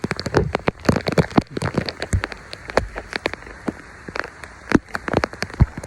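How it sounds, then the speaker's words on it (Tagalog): Heavy typhoon rain pours down hard in a rural province setting, a dense steady roar full of sharp drops and splashes hitting nearby surfaces, loud and close with no voices. "Sobrang lakas ng ulan."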